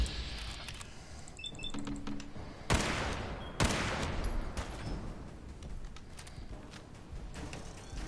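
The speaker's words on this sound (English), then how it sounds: "he's trying to shoot through a pillar" Rapid gunfire from a shooter in the video game Fallout 4 Far Harbor crackles in dense bursts, with two sharper loud shots standing out amid continuous game noise and no speech.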